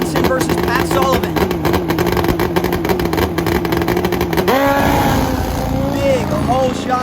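A turbo Suzuki Hayabusa and a nitro-fuelled Harley at a drag race, engines revving loudly with a sharp pitch jump partway through, while an announcer talks over the noise.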